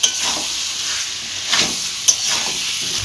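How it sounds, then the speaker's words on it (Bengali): Fried potatoes sizzling loudly in hot oil in a pan for a Bengali chicken curry, stirred with a few scraping knocks over a continuous close hiss. "আলুগুলো দিয়ে ভালোভাবে কষিয়ে নেব।"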